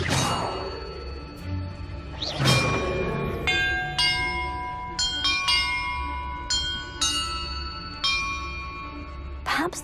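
Bells ring in the video game Hogwarts Legacy, a series of struck metallic clangs at different pitches, each one ringing out and overlapping the next, loud and clear.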